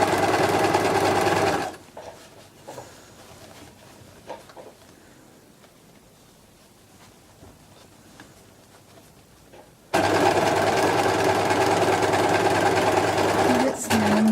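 A sewing machine stitches a beach bag seam with a loud, steady whirring run, stops for several seconds of quiet handling sounds, then starts up again in a long, even burst.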